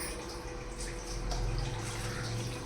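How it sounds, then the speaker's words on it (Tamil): Water runs steadily into a pan of cauliflower gravy, a continuous close splashing pour that thickens slightly partway through. "இப்போ தண்ணி ஆட் பண்ணிக்கலாம்"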